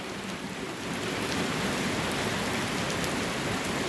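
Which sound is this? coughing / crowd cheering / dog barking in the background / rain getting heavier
rain getting heavier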